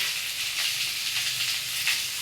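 Poppy seeds dropped into a hot pan of oil send up a steady, fairly soft sizzle and hiss that holds evenly throughout, with a few brief crackling flares and no one talking.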